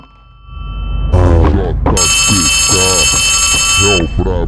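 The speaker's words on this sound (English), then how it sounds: "A phone?" A phone rings in the video game Poppy Playtime Chapter 3, a steady electronic buzzing ring sustained for about two seconds, while a person talks throughout over it and in-game sounds continue.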